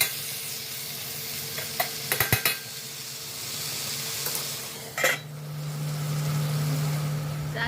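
Green chilli, garlic, salt and kalonji masala fry in a home kitchen pan, a steady sizzle with several sharp clinks of a spoon against the pot and a low hum, close by and without talking.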